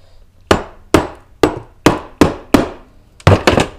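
Seven sharp metallic hammer strikes on a flathead screwdriver driven into an electric fuel pump, evenly spaced then a quick double hit at the end, close and loud with short ringing decays.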